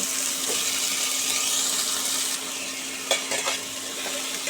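Sliced potatoes frying in hot oil with five-spice tempering and dried chilli, a steady close sizzle with a few stirring clinks and scrapes near the end.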